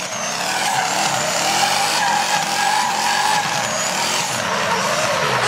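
A drift car skidding at a DOC Leskovac event, with loud continuous tire squeal and screeching rubber over a roaring engine, steady and close throughout.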